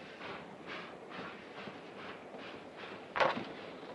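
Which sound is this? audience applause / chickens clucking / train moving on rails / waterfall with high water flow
train moving on rails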